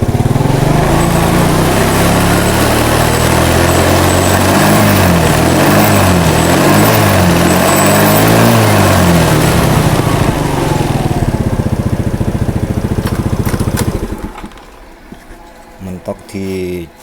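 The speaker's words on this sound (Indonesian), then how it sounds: "Coba kita kontak, kita hidupin, dia kalau digas bisa naik atau tidak." A motorcycle with a battery charging fault runs close and loud, its engine note rising and falling through repeated revs, then cutting out to a low idle and a few short bursts, with a voice talking over it.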